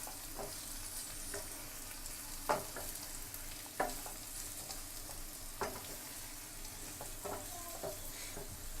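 Potatoes frying in a pan for a Tamil-style potato fry, a steady quiet sizzle with a few sharp scraping stirs spaced through it, close by and without voices.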